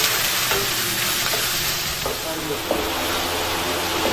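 Chicken frying in a pan while being stirred for chicken macaroni: a steady, close, loud sizzle runs throughout, broken by a few soft utensil scrapes and clinks.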